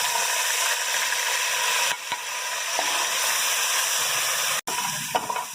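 Garlic and ginger sizzling in hot oil with cumin, a loud, steady frying hiss close up, interrupted by a brief pause and a few faint clinks.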